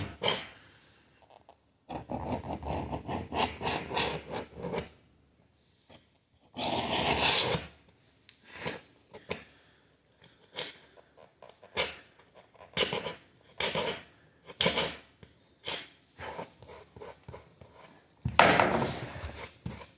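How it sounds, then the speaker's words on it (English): A hand scraper works over a damaged oak floor in repeated short, rasping strokes. The bursts come in irregular clusters with quiet gaps between them, close and fairly soft. "Make a few more passes with the scraper."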